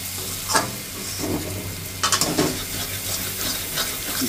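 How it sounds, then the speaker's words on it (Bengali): Fish curry base sizzles steadily in hot oil in a kadai while a utensil scrapes and stirs in several brisk strokes against the pan. "এইভাবে নেড়ে চেড়ে কষিয়ে নেব।"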